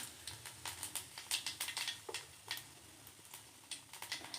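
Fennel seeds hit hot oil in a pan for a muchaka curry, giving a close, crackling sizzle with rapid irregular pops and spits that continue steadily throughout, with no voices.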